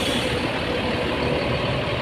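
Buses rumble and idle at a busy bus terminal parking area, a steady loud low engine drone with broadband noise and no distinct brake hiss standing out.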